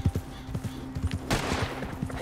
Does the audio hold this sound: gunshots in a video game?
yes